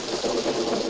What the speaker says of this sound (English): Hear that, Barn? Rain.